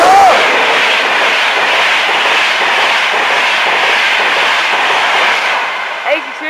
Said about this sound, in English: Just now coming in, your 1459 East Coast Service to London King's Cross.